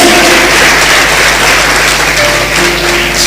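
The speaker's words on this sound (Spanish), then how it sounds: "Dale un fuerte aplauso" A church congregation claps in a brief, dense burst of applause, loud and steady throughout.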